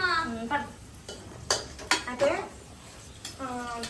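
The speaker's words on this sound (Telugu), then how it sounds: "ఫస్ట్ ఆయిల్ వేసుకొని నాలుగు పచ్చిమిరపకాయలు వేసుకొని ఆనియన్స్ వేసుకొని ఫ్రై చేస్తున్నాను" Utensils clink and scrape against a pan while green chillies and onions fry in oil, with sharp metallic knocks and stirring over a faint sizzle; a voice talks briefly in between.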